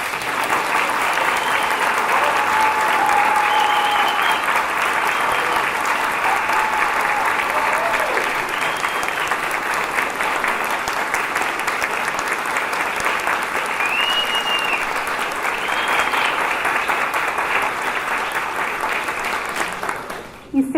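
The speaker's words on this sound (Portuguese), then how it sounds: "A vocês também pedimos uma merecida salva de palmas." Audience applause at a celebration of the bicentenary of Bahá'u'lláh's birth, a long, even wash of many hands clapping that holds steady for about twenty seconds before cutting off.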